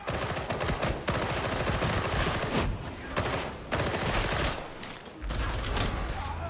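Dense, sustained gunfire in the co-op shooter Warhammer 40,000: Darktide, rapid automatic bursts layered and nearly continuous with brief gaps, loud and close.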